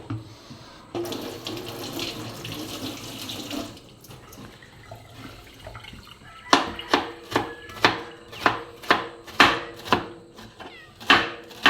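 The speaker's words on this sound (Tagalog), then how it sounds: "Nakapaghiwa na din po si Tilat ng sibuyas at bawang." Onion and garlic being chopped on a board, heard as a series of sharp, evenly spaced knife strikes in the latter half, preceded by running tap water and quieter kitchen clatter, with no talking.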